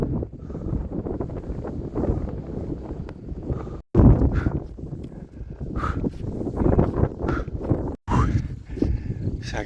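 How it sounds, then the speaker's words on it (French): Gusty wind buffets the microphone in a low, rumbling roar that surges and dips, cutting out briefly twice. "C'est agréable le vent, mais j'aurais bien aimé qu'il soit de dos."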